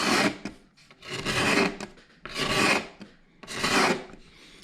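A razor blade scraper scraping dried glue off a table, heard as four long rasping strokes in a steady back-and-forth rhythm with short pauses between, close and clear with no voices.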